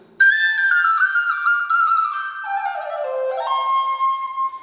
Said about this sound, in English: Lovely whistle, doesn't take a lot of air, very immediate, quite sweet.